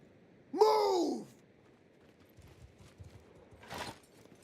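A horse in the Bannerlord battle game gives a loud whinny, followed later by a shorter snort or neigh, set against low battlefield ambience with no clear hoofbeats.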